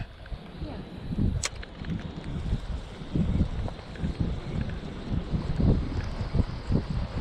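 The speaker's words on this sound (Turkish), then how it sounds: "Çok rüzgar var." Strong wind roars and buffets the microphone in uneven gusts while fishing for bluefish, with water sloshing faintly beneath and a voice talking now and then.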